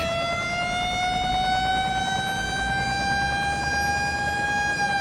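In Cities Skylines, a fire engine's siren rings out loud and unbroken as a long, slowly gliding wail, heard alone without voices.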